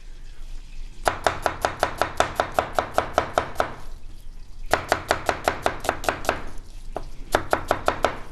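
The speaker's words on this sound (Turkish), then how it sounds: "Soğanımızı doğradık." Quick, even knife strokes chopping an onion on a board in two long bursts with a short pause between, close and crisp, no voices.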